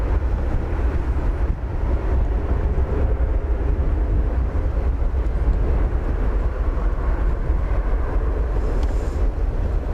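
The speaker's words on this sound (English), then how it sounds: "It's flight 521 from LAX, 737-800." A 25-year-old Boeing 737-800 airliner in older Delta livery, flight 521 from LAX, rumbles steadily at an airport with a loud, broad roar that holds throughout without talk.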